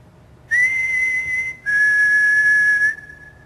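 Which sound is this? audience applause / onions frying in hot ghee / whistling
whistling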